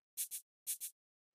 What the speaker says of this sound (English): the next layer I have here is the shaker